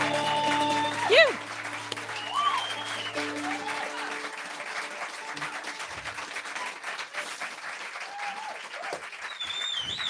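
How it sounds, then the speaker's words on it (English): Audience applause at a live storytelling event, a long even spread of clapping that carries through the whole stretch, with occasional voices and cheers above it. "Give us a round of applause."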